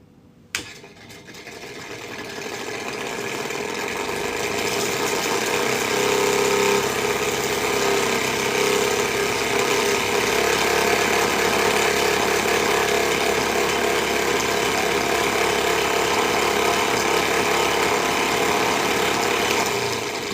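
A Peugeot 206 diesel car engine makes a strange, rough, tractor-like clatter, running steadily and loudly close by for the whole stretch with no talking over it.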